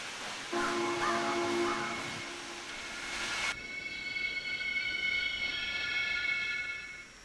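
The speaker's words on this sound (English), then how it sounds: "I love that braking sound." A train in Trainz 12 brakes with a loud, sustained metallic squeal that shifts pitch midway and carries on for several seconds before fading slightly.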